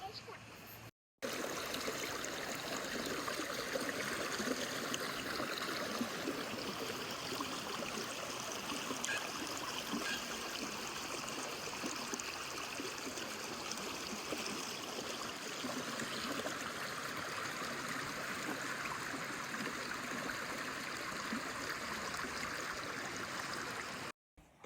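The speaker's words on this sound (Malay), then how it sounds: "So that's a river." River water flowing in Melbourne, a continuous broadband rush and trickle heard fairly close, steady throughout with slight swells, with voices faintly present at times.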